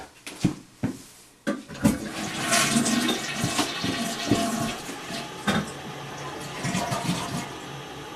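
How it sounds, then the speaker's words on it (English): A household toilet flushes nearby, starting with a few clunks of the handle and then a loud, sustained rush and gurgle of water that lasts several seconds, with no voices. "I would like to flush George's toilet."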